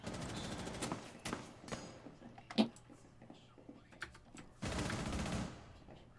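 Rainbow Six Siege gunfire: two bursts of automatic fire, one early and one near the end, plus a sharp thump between them, fairly quiet and heard with no talking.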